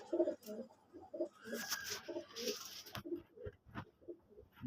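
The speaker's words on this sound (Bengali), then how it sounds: "এগুলো আমার নতুন গোল্লা কবুতর" New white crested Gola pigeons coo in a loft, soft repeated low calls in an uneven rhythm, close by, with faint rustling and patter around them.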